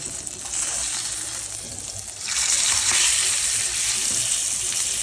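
A Berkshire pork chop sears loudly in a frying pan, a dense steady sizzle that swells louder partway through and holds, close up with no talk.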